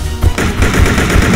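Loud, close automatic rifle fire from the video game Resident Evil Survivor 2, a dense rapid burst of shots with no break.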